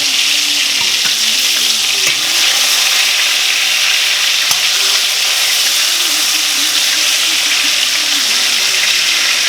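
Chicken for chicken marsala fries in a pan with a loud, steady hiss and crackle, a dense sizzle that continues evenly throughout with occasional faint pops and no talking.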